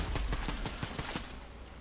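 Rapid gunfire in the video game Fortnite, a loud burst of roughly ten closely spaced shots in quick rhythm that stops partway, leaving a lingering game ambience.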